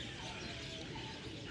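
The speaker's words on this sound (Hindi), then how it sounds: "तो आप ये आवाज़ें सुन के देख सकते हैं कि ये चिड़ियाएँ जिनके पास कुछ भी नहीं है वो अपने घर जो कि एक पेड़ है" Small birds chirping in a tree, a faint wash of high tweets over a steady, noisy outdoor background with no clear nearby calls standing out.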